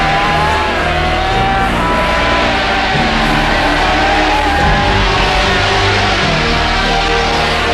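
Racing motorcycle engines at the 1972 Rungis race roar continuously and loudly, several machines overlapping in a dense, harsh drone.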